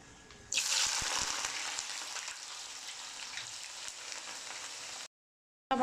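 Onions and green peppers sizzle steadily in hot oil for Egyptian ful medames, a fava bean dish. The bright, close frying hiss swells in after a quiet start and holds without talk, then cuts off abruptly near the end.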